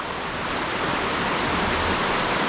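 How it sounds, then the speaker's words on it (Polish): After heavy rain in Krynica-Zdrój, the swollen Czarny Potok stream rushes in a constant, dense wash of water noise, loud and close, with no pauses. "Czarny potok jest podniesiony, ale do brzegu koryta mu brakuje jeszcze dużo."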